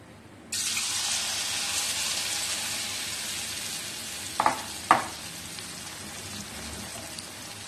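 Battered taro drops into hot oil and erupts into a loud, steady sizzle that holds throughout, with a couple of sharp clinks partway through.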